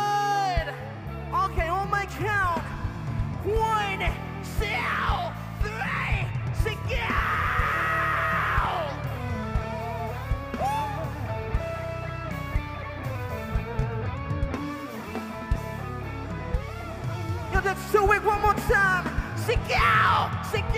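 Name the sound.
festival crowd shouting loudly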